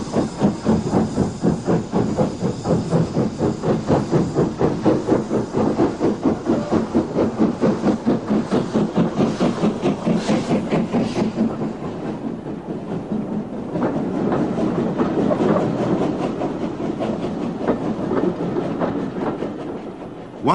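An LMS 'Jinty' tank steam locomotive, visiting from the Severn Valley Railway, works along the Swanage line at a Yuletide event, its fast rhythmic exhaust beats and steam hiss loud and steady, with rail clatter building in the later part.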